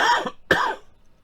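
Two quick throat-clearing coughs from a man with an irritated throat, close to the mic, the second sharper than the first, with no talking.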